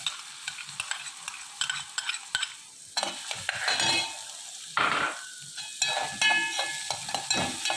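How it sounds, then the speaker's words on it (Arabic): Onions fry in hot ghee with a bright, crackling sizzle that surges as they drop into the pan, broken by repeated clinks and scrapes of a spoon stirring against the pot; no talking. "كده السمنة سخنت وصلت لدرجة الحرارة المطلوبة. هننزل بالبصل."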